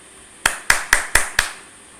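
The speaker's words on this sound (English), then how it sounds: "I'm pinning a round of applause to Pranesh, ladies and gentlemen." Five crisp, evenly spaced handclaps during an online group discussion, a short, close burst of applause from one person with no voices.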